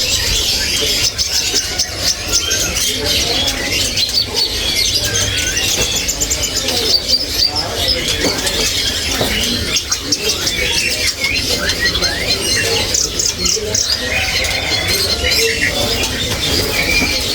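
Dense, bright chirping and chattering of a trucuk bulbul songbird fills the air nonstop over a steady hiss of background noise.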